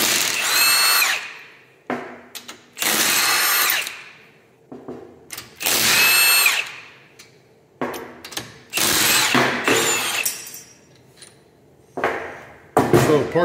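Loud bursts of a power tool, likely an impact driver or drill, backing out the bearing cap bolts on a Jeep Wrangler JK Rubicon Dana 44 differential, several spurts with short pauses and ratcheting between them, close up with no talk.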